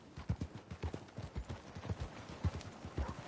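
Horse hooves clip-clop steadily in Red Dead Redemption 2, a quick rhythmic run of close, punchy thuds repeating several times a second with no other sounds over them.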